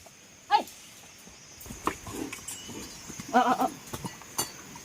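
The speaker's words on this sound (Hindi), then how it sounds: "अभी मैं भैंस को अंदर ले जाती हूँ" A water buffalo is led inside on a mountain farm in hot weather, its hooves giving scattered soft thuds and scuffs on the ground amid quiet rustling, with a few sharper knocks close by.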